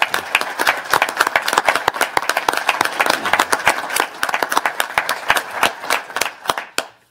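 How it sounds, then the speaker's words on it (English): A round of applause at a news conference after a senator's post-midterm remarks: a room of hands clapping for about seven seconds, brisk and moderately dense, tapering to a few last claps at the end, no talking over it. "So I want to give them a round of applause because they did a wonderful job."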